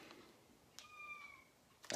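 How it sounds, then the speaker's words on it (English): A house cat gives one faint drawn-out meow indoors, alone against a quiet room with a brief rustle at the end. "I have to let the cat out."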